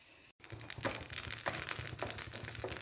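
Washed rice grains crackle and pop as they roast in a hot pan, with a steady sizzling hiss and irregular sharp pops close by, no voices.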